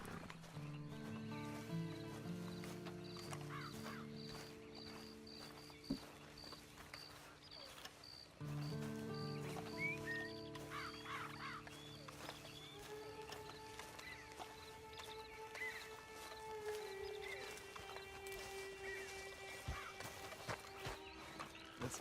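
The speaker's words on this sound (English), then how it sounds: "And you better get on this horse." Horse hooves clip-clop at a steady walking pace in Red Dead Redemption 2, moderately loud beneath a layered game score, with an occasional whinny and no talking.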